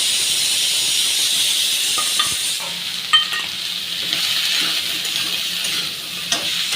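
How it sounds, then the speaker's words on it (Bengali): Bottle gourd and potato pieces with green chilli, salt and turmeric fry in a pan, giving a steady close sizzle with a few clinks of a stirring utensil, and nobody talks. "একটু ভাজা ভাজা হয়ে নিক"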